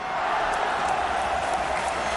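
Football stadium crowd during an AFC Champions League night match in Chonburi, a steady dense roar of cheering and chanting that stays loud and continuous throughout.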